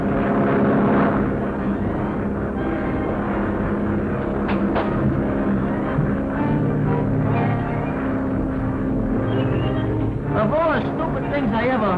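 A propeller ambulance plane's engine drones steadily and close throughout in flight, a loud continuous hum with voices talking over it.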